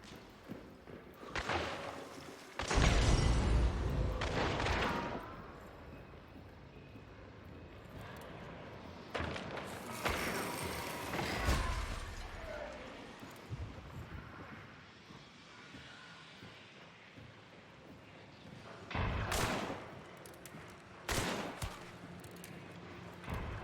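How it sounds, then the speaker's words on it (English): Gunfire in the video game Hunt comes as a few loud, separated shots and booming bursts with quieter stretches of ambient game noise between them, and no voices. "Let's shoot him in the chest."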